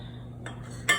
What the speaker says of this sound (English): So we're whisking this together